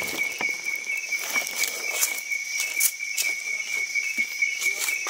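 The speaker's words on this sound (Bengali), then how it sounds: "ঝিঝি পোকার ডাক শুনেন রাতে পাহাড়ের।" Crickets chirp at night in the hill forest of Alikadam, Bandarban, Bangladesh, making a steady, high, continuous drone. Faint footsteps and a few soft voices sit underneath it.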